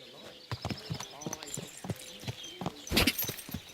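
Horse hooves clip-clop in a quick, steady rhythm in Kingdom Come: Deliverance 2, close and clear, with game voices talking over the hoofbeats.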